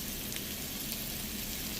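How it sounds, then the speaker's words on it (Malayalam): Ghee added to chicken pepper masala in a pan, giving a brief, even, close sizzle with no talk. "ഇനി ഇതിലേക്ക് നമുക്ക് ഒരു ടീസ്പൂൺ നെയ്യ് ചേർത്ത് കൊടുക്കാം."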